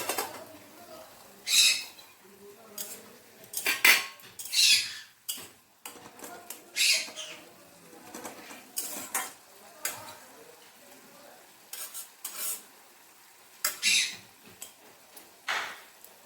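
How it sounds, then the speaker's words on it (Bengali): Greens for gima begun being stirred in a pan after the lid is lifted, brief scraping and clinking bursts scattered among quiet gaps, close and moderately soft. "ঢাকনা তুলে একবার নেড়ে দেব"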